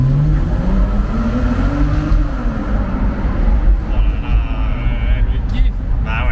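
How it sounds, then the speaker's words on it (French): A Porsche Boxster 987 flat-six engine hums and rises in revs from inside the open-top convertible, steady and fairly close under ongoing conversation between occupants. "Et le bruit du flat 6, tu vois."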